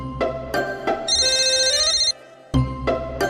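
An electronic phone ringtone plays a repeating melodic chime, loud and close, with a short pause before it rings again.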